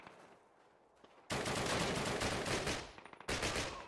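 Enemy gunfire in a Call of Duty British campaign mission at a V-2 rocket site: dense, loud automatic bursts that erupt suddenly after a quiet start, with a brief break before another burst.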